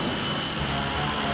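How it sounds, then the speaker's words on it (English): A secret-weapon jet throttle fitted to a car surges with a loud, steady jet-engine roar that fills the whole moment without a break. "And the throttle jet surged ahead."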